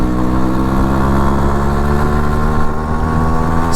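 A Yamaha RX motorcycle engine runs steadily at idle, a loud, continuous two-stroke hum with even pulsing and no voices.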